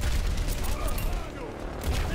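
Gunfire in the video game Overwatch, a burst of rapid shots layered over busy in-game noise, with a player talking over the action.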